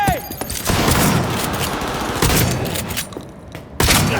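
Sustained gunfire in a Cyberpunk 2077 firefight, a dense rattling fusillade with sharper loud shots standing out near the middle and the end, with combat voices shouting faintly beneath.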